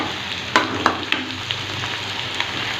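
Mutton masala frying in oil in a home kitchen pan for a jackfruit mutton gravy, a steady close sizzle with a few sharp stirring clinks and spatters, no voices.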